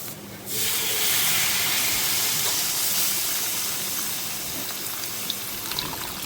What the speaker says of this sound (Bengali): এরপরে এর মধ্যে আমি অ্যাড করে দেবো জল, জল অ্যাড করে ম্যাগিটা অ্যাড করে ছেড়ে দেবো